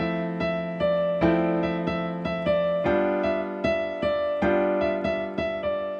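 A tune on solo piano, voiced with basic seventh chords in a lilting bossa nova rhythm of frequent repeated chord strikes, steady and close with no talking over it.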